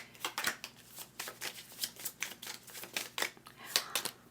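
Tarot cards riffle and slap in quick shuffling bursts, a steady run of crisp, close papery flicks with no talking.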